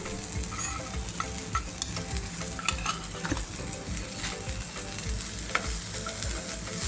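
Cumin, mustard seeds, coriander powder, turmeric and a coarse ground mix roasting in a pan for walpapdi bhaji, an even crackling sizzle with frequent spoon scrapes and light metallic clinks, no talking.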